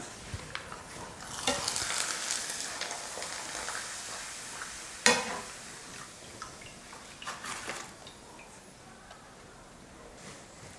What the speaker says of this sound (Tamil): வடை போடுறதுக்கு முன்னாடி அப்பளத்தையும் பொரிச்சு எடுத்துக்கலாம்.